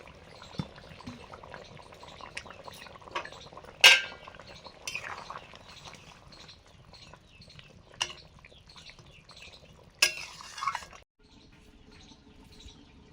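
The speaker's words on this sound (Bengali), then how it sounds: "ঝোল ফুটছে, এবারে ভেজে রাখা রূপচাঁদ মাছগুলো দিয়ে দিচ্ছি" Fried pomfret pieces are added to a boiling fish curry. Soft bubbling and faint stirring run throughout, with a few sharp metal clinks of a utensil against the pot standing out clearly.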